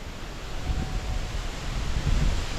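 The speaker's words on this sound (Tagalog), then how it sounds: "dito na may malakas din ang hangin" Steady roaring typhoon wind buffets the microphone beside a hut, low rumbling gusts rising and falling, stronger near the end, with a broad hiss like surf behind it.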